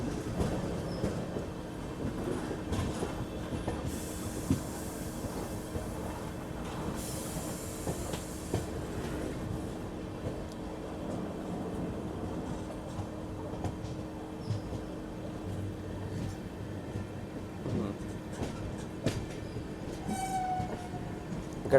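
Sabari Express rumbling along near Tenali junction, heard from inside the moving train: a long steady roar of wheels and rails with intermittent clatter and a brief horn-like tone, no voices.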